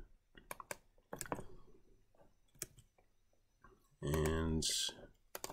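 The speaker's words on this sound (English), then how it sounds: "So let's type that example." Typing on a computer keyboard while writing Rust code: sparse sharp key clicks at irregular intervals, then a fast run of rattling keystrokes near the end, with someone talking at times.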